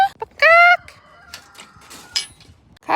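Backyard hens cluck and squawk in short bursts, one loud drawn-out call near the start and scattered softer clucks after, close by, with faint background noise between.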